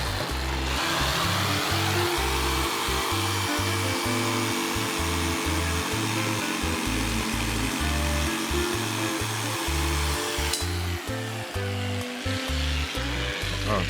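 A power saw cuts wood for a recycled bathroom cabinet, running loud and continuous with a steady droning whine and repeated rhythmic pulsing surges throughout, briefly easing near the end.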